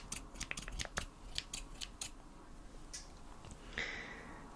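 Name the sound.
scissors cutting hair during a haircut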